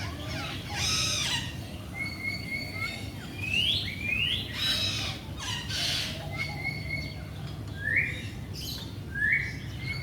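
A loose bird calls in the TMII bird park, giving a series of short, rising chirped whistles, repeated every second or two over a steady outdoor background hum at moderate distance.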